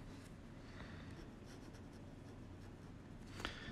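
A pencil scratches faintly across paper in short, soft strokes against a quiet background hiss, ending with one sharper tap or scrape near the end.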